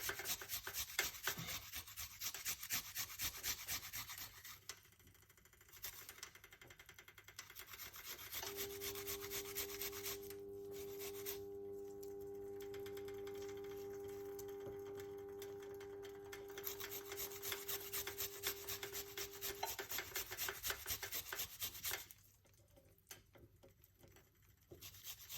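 Fresh ginger being grated, a continuous scraping rasp that runs steadily for about twenty-five seconds, quiet and close, with a faint tonal hum underneath partway through.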